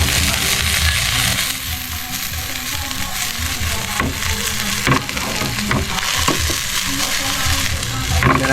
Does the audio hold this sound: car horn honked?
no